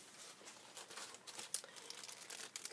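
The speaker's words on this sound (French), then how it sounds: "Il ne me reste plus qu'à découper un sentiment." Paper sentiment for a handmade Mother's Day card being cut out, giving quiet continuous crinkly snipping and rustling close by, with small sharp clicks scattered through.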